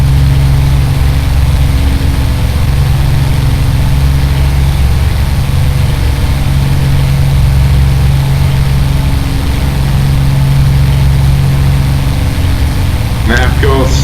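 A Spitfire Mark I engine in a flight simulator drones steadily at low pitch for the whole stretch, a constant loud hum with little change in power and no talking over it.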